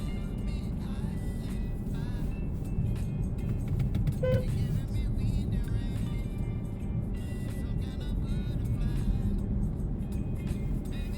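Cars drive along a snowy road during a snowstorm, producing a steady, close traffic rumble and tire hiss that runs throughout, with a brief horn-like tone partway through.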